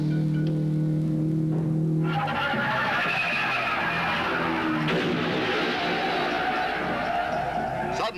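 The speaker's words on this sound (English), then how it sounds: "Parnelli Jones makes a check run at high speed." A 1965 Indianapolis 500 race car driven by Parnelli Jones roars past at high speed. The loud engine rises abruptly after a couple of seconds and stays in a dense, continuous blare with some tire squeal and crowd noise underneath.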